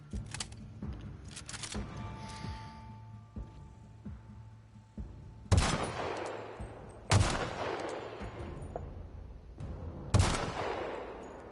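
Gunshots ring out in The Outer Worlds: three loud, sharp reports spaced a few seconds apart, each with a long decaying tail, over a low in-game ambience and some smaller clicks and shots.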